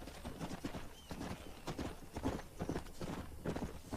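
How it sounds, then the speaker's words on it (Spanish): Steady clip-clop of horse hooves in Red Dead Redemption, a continuous walking rhythm close by with faint game ambience and no talk. "Aquí hay caballos, güey."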